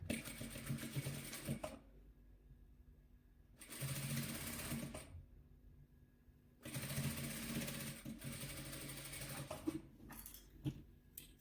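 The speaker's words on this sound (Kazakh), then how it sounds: "Енді шаршыларымызды тігеміз." A sewing machine stitches patchwork quilt squares for a chessboard-pattern quilt, running in three close, steady bursts of rapid whirring with quiet pauses between them, then fading to faint handling noises.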